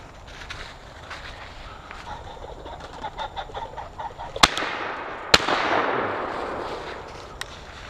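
Two sharp, loud shotgun reports about a second apart ring out at a flushing pheasant on an early-morning Pennsylvania hunt, with open-air ambience before and a brief hiss trailing after the second blast.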